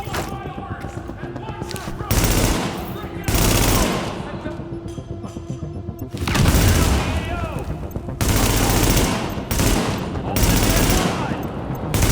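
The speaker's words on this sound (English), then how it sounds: "Reporting gunfire in the station above us." Bursts of rapid gunfire and heavy blasts come in waves over a dense, noisy battle backdrop in the video game Tom Clancy's The Division, loud and close, with quieter stretches between volleys.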